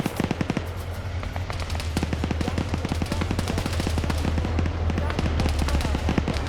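Heavy automatic fire from a PKM machine gun and an AK rifle in a Cold War military game battle, a relentless close rattle of rapid shots layered with other gunfire, continuous and loud throughout.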